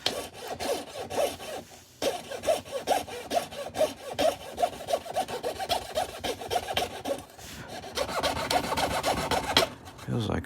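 A hand saw cuts into wood at a workbench, with steady back-and-forth rasping strokes close up, a brief pause around the two-second mark, then continuous scraping with no talk.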